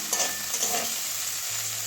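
Fried cauliflower is stirred in a pan with garam masala, a soft sizzle underneath a few scraping strokes of the spoon, quiet and close, with no one speaking.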